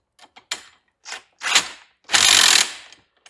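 Ratchet wrench tightening parts on a 1940 Chevy business coupe fitted with custom power steering: several short clicking bursts, then one longer, louder run of rapid ratchet clicks, close up with no talking.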